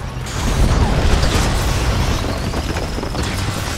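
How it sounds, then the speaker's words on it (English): Heavy artillery cannon fire in the Trenched (Iron Brigade) video game, a loud, dense stretch of booming blasts and clanking mechanical noise that keeps up steadily for several seconds with no speech. "They call that one Artie for his heavy artillery cannon"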